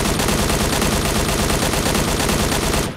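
Rapid automatic gunfire from the mobile shooter game Knives Out, fired in macro mode, rattles without a break for about three seconds, loud and dense, before cutting off abruptly.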